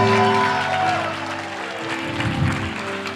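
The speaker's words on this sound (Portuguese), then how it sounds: "Aplauda mais forte, é para Ele." A church congregation applauds during a worship service, a broad, loud clapping texture that builds under and after sustained musical tones, with no clear speech on top.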